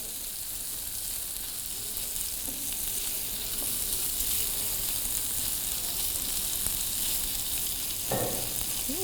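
Whole spices such as black peppercorns, green cardamom pods and cloves fry in a pan, a loud, even sizzle with faint scraping of stirring underneath.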